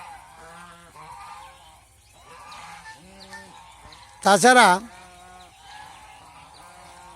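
Ducks on a commercial duck farm let out a loud, brief burst of honking quacks midway, near and prominent, while someone speaks steadily before and after it.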